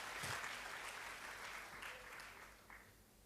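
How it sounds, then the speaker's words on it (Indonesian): Church congregation clapping in praise to God during a sermon, a moderate, fairly distant wash of applause that gradually thins out over a few seconds. "Kita berikan tepuk tangan buat Tuhan."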